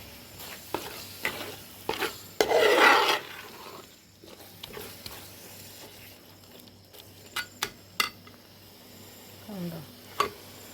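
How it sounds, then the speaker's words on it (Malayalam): Beef masala ingredients being sautéed and stirred in a pan, heard as scattered short scrapes and taps with a brief louder sizzling burst, over a quiet background. "എല്ലാം വഴറ്റി കേട്ടോ."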